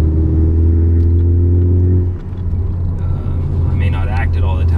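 A 2017 Ford Focus ST with a CNT Racing cat-back exhaust drones with a deep, steady low rumble from inside the cabin, then shifts as the engine note changes, while someone talks over it.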